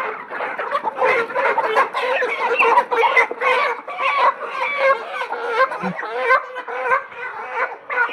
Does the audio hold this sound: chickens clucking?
yes